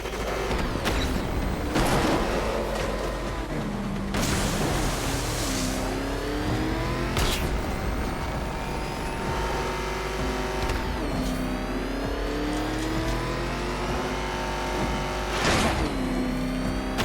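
The Batmobile in Batman: Arkham Knight roars loudly and continuously, its engine surging and revving in repeated bursts during a Riddler race, with whooshing effects layered on top.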